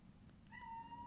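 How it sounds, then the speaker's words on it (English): A cat lets out a single drawn-out meow, soft and somewhat distant, over a quiet background with no speech. "Anyways, that's the cat."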